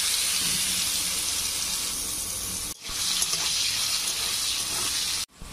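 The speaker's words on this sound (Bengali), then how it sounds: "এখানে কেটে রাখা আলুগুলোও আমি ভেজে নেব।" Cut potatoes fry in hot oil in a pan, giving a steady, close hiss of sizzling that runs almost without pause, broken only by two brief dips.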